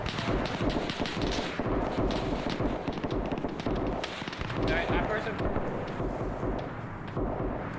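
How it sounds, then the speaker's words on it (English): Gunfire crackles through a video game battle set in Ethiopia, ANZAC against Italians, with dense overlapping shots and booms at mid distance, a continuous loud barrage throughout. "Hear all that gunfire."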